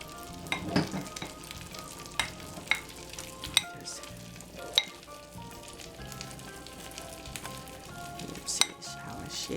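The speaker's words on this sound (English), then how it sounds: "can fry my first fish ball, eller Fiskefrikadeller" Danish fish cakes, fiskefrikadeller, frying in butter in a pan, a steady close sizzle punctuated by spoon clinks and scrapes against the pan as they are shaped and added.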